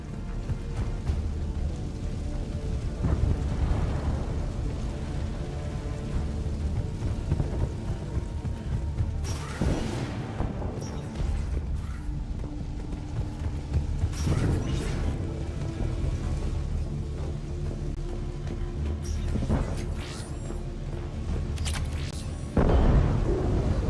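Ships firing and explosions in the sci-fi game Mass Effect 3, with a dense rumbling battle backdrop punctured by several loud booming blasts and crashes spread through the scene.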